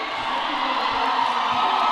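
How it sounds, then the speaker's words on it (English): Roller derby crowd at a USA versus Finland World Cup bout roars and whoops right after a USA scoring pass, a dense, loud wall of cheering sustained throughout without letup. "And the crowd is wild for that"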